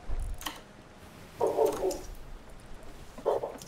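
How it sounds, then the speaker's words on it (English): A dog gives two short barks, somewhat muffled and distant, separated by a quiet pause in a room. "Sorry, my dog's barking, so I keep muting."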